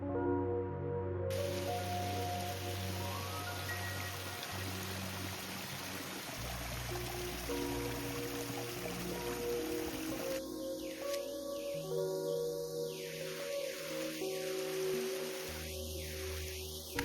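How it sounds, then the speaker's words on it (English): The massive waterfall near Montecito Hot Springs on a hike makes a steady rushing, trickling wash of falling water, continuous and fairly faint, with a music bed layered over it. "It is a massive waterfall, and you can take a moment to look at it along the midpoint of the hike."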